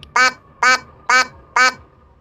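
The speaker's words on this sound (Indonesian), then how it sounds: "Sudah suara bebek ya teman-teman." A duck quack sound effect, added during video editing, sounds four times at an even pace, each quack a loud, nasal, clipped burst against near silence.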